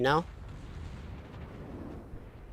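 Torpedoes striking a warship in the naval combat game World of Warships set off a low, rumbling explosion that rolls on and slowly fades, just after a short burst of a voice.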